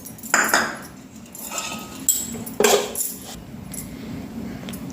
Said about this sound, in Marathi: खोबरं भाजत आहे.